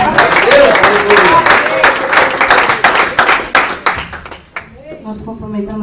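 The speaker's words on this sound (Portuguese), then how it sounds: "Vamos receber a serva do Senhor com as palmas bem alegres." A church congregation claps briskly in rhythmic applause for about four seconds, the claps fading out before a voice speaks.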